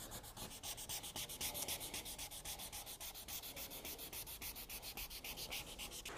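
Yellowed car headlight sanded by hand with coarse sandpaper, a quick, even back-and-forth scratching rhythm of many strokes, close and steady throughout.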